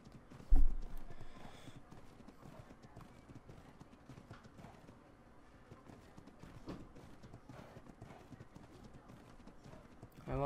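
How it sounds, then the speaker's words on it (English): In the video game Ark: Survival Evolved, Ragnarok map, horse hooves clip-clop steadily at a trot after a sharp thump, with a brief whinny; the sounds are moderately quiet and continuous. "I want this horse. I won't give up."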